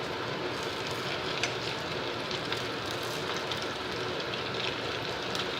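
Rava (suji) cutlets deep frying in oil until golden brown make a dense, continuous roar of bubbling at constant loudness.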